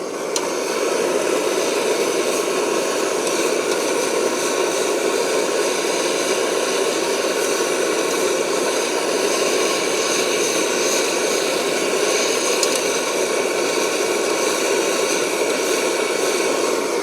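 A Primus OmniFuel II camping stove burns with its valve fully open, producing a loud, steady roaring hiss that holds unchanged throughout, close by and with no talk.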